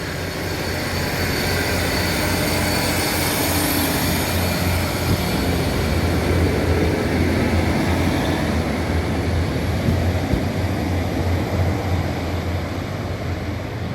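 A steady, loud rumble of a moving train carriage between Penarth and Cardiff fills the whole stretch, with a constant drone and faint rattling, no voices.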